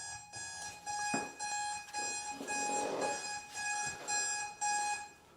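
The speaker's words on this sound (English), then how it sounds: "That was the alarm going off," An alarm going off indoors during a DIY Christmas building session, a repeated series of high electronic beeps in short pulsing bursts over a faint background.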